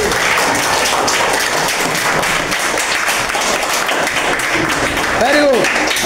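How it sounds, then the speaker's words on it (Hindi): Classroom applause: a group claps steadily for several seconds in a dense, even patter, while voices carry on over it. "बहुत अच्छा जवाब, जोरदार ताली इनके लिए।"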